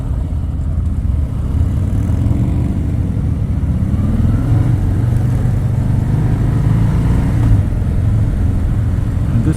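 A 2018 Harley-Davidson Sport Glide with the 107 engine cruises along, its low, steady rumble loud and continuous with only slight swells in pitch, and no talking over it.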